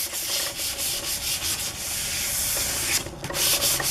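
Sandpaper rubs back and forth over the underside of a felt piece, steady close scratching strokes in a quick repeated rhythm with no talking.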